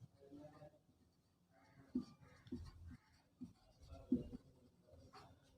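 Soft, scratchy strokes of writing on a board or paper come in short bursts during a Class 9 geometry lesson on congruent triangles. They are quiet and mixed with a teacher's speech.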